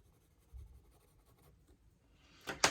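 A watercolor pencil scratches lightly across paper in short, soft strokes, quiet and close, ending in a louder burst of rubbing.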